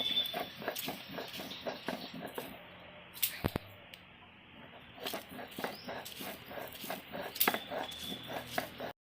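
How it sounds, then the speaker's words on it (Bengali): Sesame seeds are ground by hand for a chutney in a home kitchen, producing a close, rhythmic series of gritty strokes with a brief pause midway. "তিলের চাটনিটা এখন বেটে নিব।"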